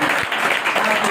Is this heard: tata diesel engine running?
no